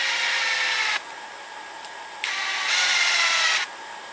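A screwdriver turns screws on a Serpent Cobra 811 LWB RC car, a steady buzzy whirring in two close stretches separated by a quieter pause, alone with no talk.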